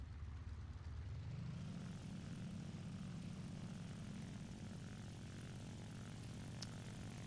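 Propeller plane engine droning steadily in the War Thunder video game, a constant loud hum with a low tone that rises early on and then holds, no talking over it.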